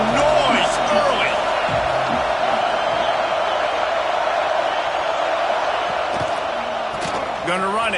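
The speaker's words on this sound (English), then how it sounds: "This crowd bringing the energy and noise early." A packed stadium crowd roars continuously at a Texas vs Ohio State college football game, a loud, dense wall of cheering with scattered whoops, while a commentator talks over it.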